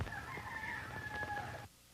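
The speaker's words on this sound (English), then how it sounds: "There's a rooster crowing." A rooster crows once in a long, drawn-out call lasting most of two seconds, clear and fairly close at night before dawn, then cuts off into quiet.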